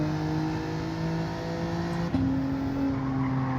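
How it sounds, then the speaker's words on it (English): A race car engine in Gran Turismo 7 at Dragon Trail Gardens holds a steady droning tone, then shifts sharply in pitch as it changes gear, a continuous engine hum with no talk. "And the car sounds weird as well."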